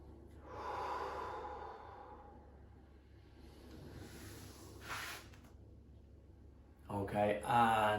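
Slow, deep breaths drawn and released during a gentle stretching routine in a forward bend, soft and close, with long audible inhales and exhales and a louder breath at the end.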